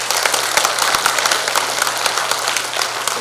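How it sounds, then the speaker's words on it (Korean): An indoor hall at a party delegates' convention fills with steady applause, a dense crowd clapping at a fairly close, even level with a faint hum beneath. "다시 한번 우리 당 최고위원 예비후보자이신 우리 고민정 국회의원께 큰 박수 부탁드리겠습니다"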